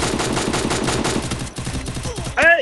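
Gunfire in the mobile battle game Free Fire crackles in a rapid automatic burst of close, loud shots, breaks off abruptly, then a short voiced cry cuts in at the end.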